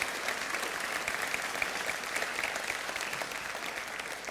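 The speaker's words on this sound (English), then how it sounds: "give them an applause" Sustained applause from a conference audience for the Blender team fills the room evenly, a dense steady wash of many hands clapping at moderate distance with no break.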